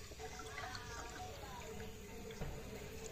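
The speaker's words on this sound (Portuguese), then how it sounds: "E faz o barulho na carbureteira, o barulho de borbulha." Gas bubbling and hissing through a carburetor, a steady close-up wash of fine bubbling and fizzing that runs evenly with no pauses.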